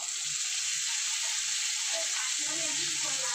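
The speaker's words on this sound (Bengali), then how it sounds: "গাজরটা ভাজা হয়ে এসেছে আমি এবার বিনস গুলো দিয়ে দেবো" Carrots and beans fry in a pan with an even, dense sizzle that holds steady, and a few low knocks and stirring sounds come in toward the end.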